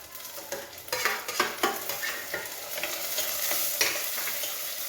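Tomato frying with onions in a pan for seer fish curry makes a soft, continuous sizzle, broken by repeated scraping stirs that come in irregular bursts at close range. No talking.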